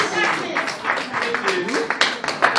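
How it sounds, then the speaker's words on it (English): Guests at a luncheon honouring community heroes applaud a woman named Agnes, a lively spread of clapping hands mixed with chatter and voices, fairly close and sustained throughout. "give Agnes a lovely round of applause"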